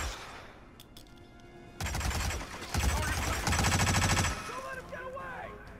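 Rifle fire erupts in Hitman as sustained rapid bursts of shots, loud and close for a few seconds, with a voice talking around them.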